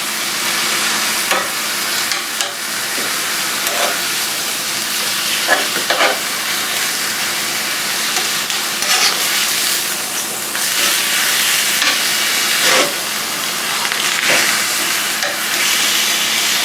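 Marinated ribeye strips in a garlic, sesame and soy bulgogi marinade frying three at a time in a pan, with continuous loud sizzling and occasional utensil clicks and scrapes, no voices.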